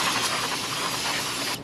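Brake cleaner sprayed in one continuous pressurized hiss onto a rear disc brake part of a 2012-2017 Toyota Camry, loud and close, cutting off abruptly at the end.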